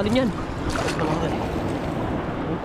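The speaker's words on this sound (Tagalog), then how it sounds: "Teka, ayun, alon yan." Waves surging at the mouth of a flooded river after heavy rain, a continuous rushing wash with wind noise, while a voice calls out briefly at the start.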